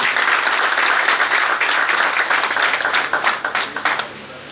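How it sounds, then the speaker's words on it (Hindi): An audience applauding at a World Pharmacists Day session on saving fertility, a full burst of clapping that thins into a few separate claps before stopping. "इसके लिए जोरदार तालियां बजा दीजिए."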